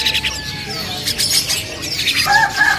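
Young Asian pied starlings (jalak suren) calling at a bird kiosk, loud chirps and squawks with overlapping calls from other birds nearby and some talking mixed in.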